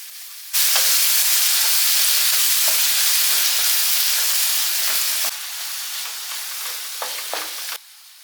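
Chopped tomato hits hot oil in a pan of Kerala sardine chili curry (mathi mulakittathu) and is stirred. A loud, steady sizzle runs throughout with intermittent stirring scrapes, then drops a little in level near the end. No one speaks.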